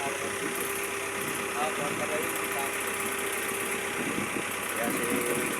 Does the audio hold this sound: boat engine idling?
yes